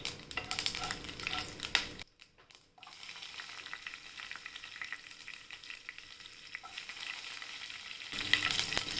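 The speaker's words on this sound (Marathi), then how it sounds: "आता तेल तापलं आहे आपलं आणि मोहरी टाकूया. जिरं टाकूया." Mustard seeds and cumin crackle and sizzle in hot oil for a tempering, a loud, dense frying hiss that briefly drops away before resuming strongly, with no voices.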